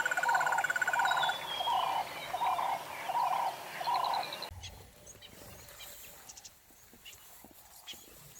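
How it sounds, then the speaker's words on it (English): A bird calls repeatedly in a steady, hooting rhythm against a quiet outdoor background, then fades out, leaving faint ambient noise. "And here another bird calling in the background."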